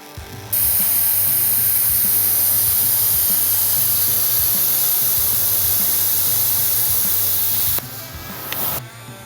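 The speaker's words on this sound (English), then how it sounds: "We're gonna use the plasma cutter and get the rough edge put on it for cutting." A plasma cutter hisses steadily through a steel knife arm, a loud continuous spraying roar with crackling mechanical texture that starts abruptly, runs for several seconds, then cuts off.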